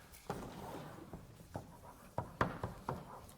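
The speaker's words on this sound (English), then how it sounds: "So let me write these down." A pen writes out trigonometry equations, giving soft scratchy strokes with a few sharper taps from the tip hitting the surface, close and fairly quiet, with no talk.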